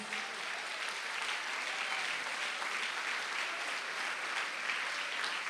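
A church congregation applauding for Jesus during a sermon, a steady, distant wash of clapping holding at an even level without pause.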